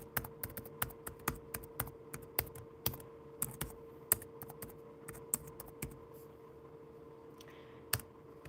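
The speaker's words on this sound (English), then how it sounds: "Let me type in hello and my email address." Keys on a computer keyboard clatter in quick irregular bursts over a steady low hum, close and fairly quiet, thinning to occasional taps toward the end.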